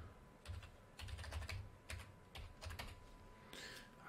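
Computer keyboard keys tapped in quick, irregular clusters of soft clicks while entering login details, close and quiet with brief gaps between bursts.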